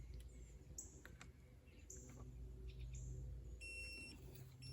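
DOVOH Laser Level 360 tipped out of level on a farm post, giving repeated high electronic beeps over a low outdoor rumble, the tones recurring in short bursts toward the end.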